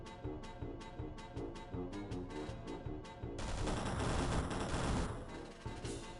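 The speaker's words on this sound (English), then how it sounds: "we're gonna be shooting a bunch of spike rockets" Spike rocket launchers fire in the X-piratez game as a string of sharp, evenly spaced blasts that swell into a dense, continuous roar of gunfire and explosions, loud and close, with no talking.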